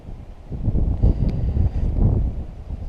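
Wind gusting outdoors on a crappie fishing trip, a rough low rumble of buffeting against the microphone that rises and falls in uneven surges for a few seconds.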